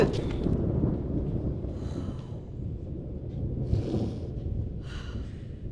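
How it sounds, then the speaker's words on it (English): Low, continuous rumbling thunder for a storm in a stage production of King Lear, a broad sustained roar with faint higher hiss drifting in and out. "'Twill be a storm."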